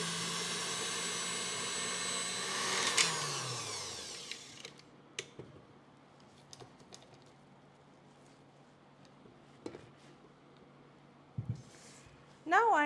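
An electric mixer beating red velvet cake batter whirs loudly for a few seconds, then winds down and stops, followed by scattered clinks and scraping sounds.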